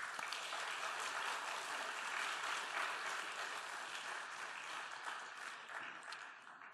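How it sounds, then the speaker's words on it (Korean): A church congregation in Daejeon, South Korea, applauds during a Sunday morning service to welcome the preacher. Dense, even clapping from many hands fills the room at steady strength, then begins to thin toward the end. "우리 목사님 나오실 때 큰 박수로 환영하겠습니다."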